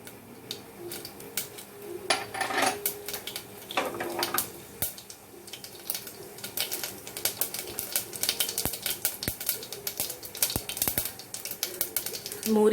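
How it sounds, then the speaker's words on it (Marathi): Mustard seeds and cumin crackling and popping in hot oil for a dal tempering, a steady run of sharp, irregular ticks and snaps close by, with no talk. "मोहरी जिरं तडतडले"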